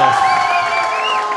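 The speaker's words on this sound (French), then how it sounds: "Merci bien, on vous applaudit." An audience at the SIA 2025 agricultural show cheers and applauds, a dense, loud wash of clapping and shouts with a few whoops over it, continuous through the whole moment.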